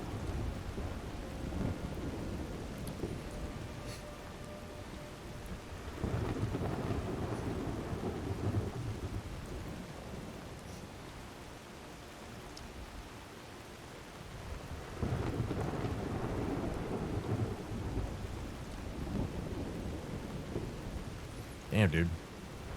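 Rain and thunder in the video game Skyrim: a steady wash of rainfall with deep rolling thunder swelling and fading in waves, plus a brief sharper crack near the end.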